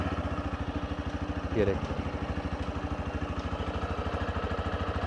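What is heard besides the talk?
TVS Raider 125 motorcycle engine idling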